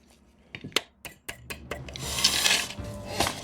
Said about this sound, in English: I'll try a light hammer on it.